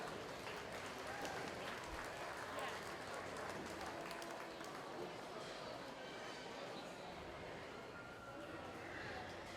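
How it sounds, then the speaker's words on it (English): A faint, steady patter of audience applause fills an arena at a 4-H and FFA market steer show, lasting for several seconds as a broad, even wash of clapping. "Let's give our sponsors a round of applause."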